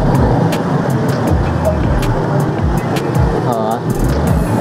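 Road traffic flows on the Buhangin bypass, with vehicles passing one after another in close succession, engine drones rising and falling, loud and near, while a person talks over it.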